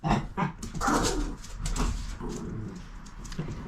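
Excited pet dogs at home yap, whine and whimper in a series of uneven bursts, moderately quiet with household background, and no clear talk over them.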